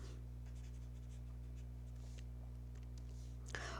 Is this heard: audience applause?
no